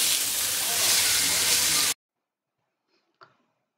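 Loud, bright hissing sizzle of rib-eye steak frying in a pan for about two seconds, then it stops abruptly, followed by near silence and a brief soft clatter.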